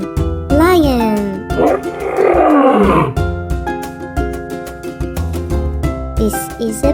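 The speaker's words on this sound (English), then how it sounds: "This is a lion, lion, lion, lion." A lion's roar plays in a children's animal lesson, rising and swelling loud over bright, bouncy music.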